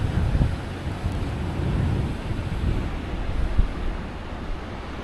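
Ocean surf rolls onto the Pemba Bay beach in Mozambique, a continuous loud wash with low wind buffeting the microphone and a few heavier surges, with no voices.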